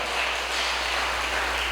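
A church congregation applauding together, a dense, steady wash of clapping that holds at an even level from start to finish with no voices breaking through.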